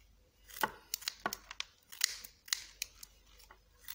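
Soft, tender plant parts are cut up as bird feed, giving about a dozen crisp, close snips in an uneven rhythm over a quiet background.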